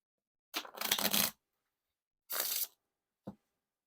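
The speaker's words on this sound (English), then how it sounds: "Now for the riffle shuffle or bridge shuffle." Playing cards from a new Ellen deck by Theory11 are riffle shuffled, giving two crisp, fluttering bursts of riffling close by, followed by a single short soft tap.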